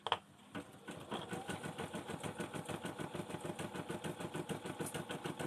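An embroidery sewing machine runs steadily, its needle stitching in a fast, even mechanical rhythm after a brief start-up clatter.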